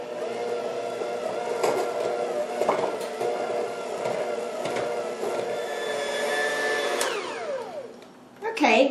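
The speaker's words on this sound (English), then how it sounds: "with my hand mixer, I'm just going to mix this all together till it's nice and smooth" An electric hand mixer whirs steadily through cream cheese frosting, a close, continuous motor drone with slight pitch shifts. It winds down near the end, followed by a brief clatter.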